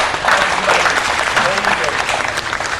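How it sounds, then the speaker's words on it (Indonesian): Studio audience applause during a live Batak artist talk show, dense and loud clapping throughout, with voices talking and cheering mixed in. "Tepuk tangan dulu buat."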